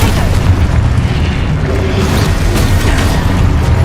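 A Confringo fire spell explodes in the Hogwarts Legacy video game, a loud sustained blast with deep rumbling booms filling the whole clip without pause.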